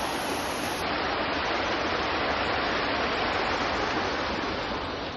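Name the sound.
waterfall at IIT Tirupati on a rainy day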